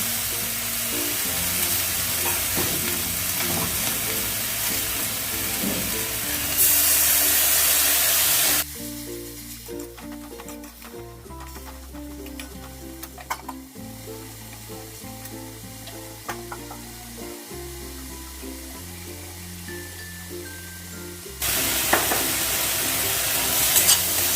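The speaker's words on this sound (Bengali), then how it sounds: "অল্প একটু জল দিয়ে আমি এটাকে নাড়াচাড়া করলাম" Tangra fish curry with chilli and a little water being stirred in a pan: loud bright sizzling, a quieter stretch of scraping and stirring with spoon knocks in the middle, then the fierce sizzle returns.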